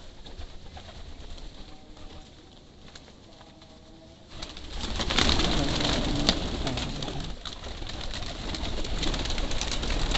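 Pigeons at a feeding spot coo softly at first; after a few seconds a louder, busier stretch of bird sound and fluttering rises and continues, close by, with no speech.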